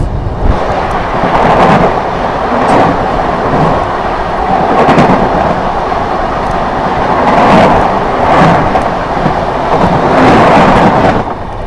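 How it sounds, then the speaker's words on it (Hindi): The New Delhi–Jaynagar Swatantrata Senani Superfast Express passes nearby as a loud, continuous rumble with periodic swelling surges and clatter of carriages going by, no voices. "अब जो आ रही है वो आ रही है अपनी न्यू दिल्ली जयनगर स्वतंत्रता सेनानी सुपरफास्ट एक्सप्रेस"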